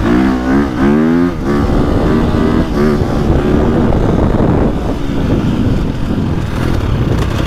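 A 2025 KTM 350XCF dirt bike engine revs hard and close, the pitch sweeping up and down through quick throttle blips before settling into a loud, gritty, continuous drone.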